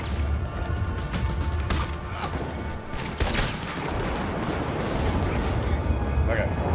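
Shotgun blasts and scattered gunfire in a Red Dead Online co-op bounty hunt, several sharp bursts over a busy, noisy game mix with players talking throughout.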